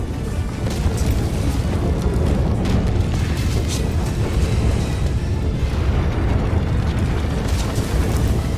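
A bomb blast in Broken Sword rumbles as a continuous, loud, roaring wall of sound, dense in the low end and sustained with no pause throughout.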